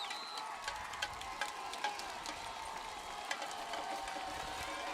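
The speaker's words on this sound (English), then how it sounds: "Good to see this Bucs crowd fired up." A fired-up home crowd of Bucs fans at a stadium during an Interboro versus Academy Park high school football game, a steady distant roar with scattered cheers and whistles rising above it.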